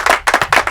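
Students clapping in a college classroom, three short bursts of close, rhythmic hand claps in under a second.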